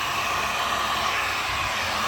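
An industrial heat gun blows onto waterproof vinyl wrapped around an air-conditioner refrigerant pipe, shrinking it tight. It gives a loud, steady, close-up whooshing roar with no pauses and no voices.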